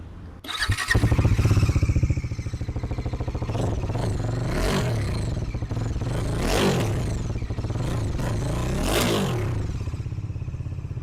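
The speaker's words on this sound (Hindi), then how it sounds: "कुछ इस तरह का एग्जॉस्ट नोट मिलता है विद D400।" A Bajaj Dominar 400 motorcycle engine starts and idles with a deep, throaty exhaust rumble, revved a few times, close and loud.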